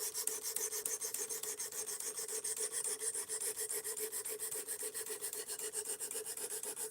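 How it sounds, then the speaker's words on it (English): Rapid back-and-forth rasping strokes grind the bevel of an S35VN steel knife by hand, a close, even scraping rhythm that runs continuously with no voices. "now I have to grind this back far enough to make the bevels match"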